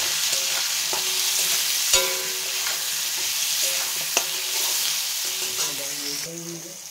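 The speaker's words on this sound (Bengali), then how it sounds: "পটলটা ভাজার সময় একটু নুন হলুদ দিয়ে ভাজলে পটলটা খুব সুন্দর ভাজা হবে।" Pointed gourd (potol) fries with salt and turmeric, giving a constant close hiss of oil with scattered clicks and spatula taps, and brief clinks near the end.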